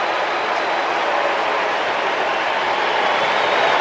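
Stadium crowd at Citizens Bank Park in Philadelphia reacting to a returning player, a steady broad roar of mixed boos and cheers filling the whole stretch without a break.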